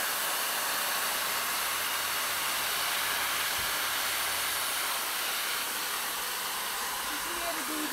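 A Jellyfish handheld pet dryer, a compact RV accessory, blows air on its warm setting, giving a loud, steady, unbroken rush of airy hiss for the whole stretch.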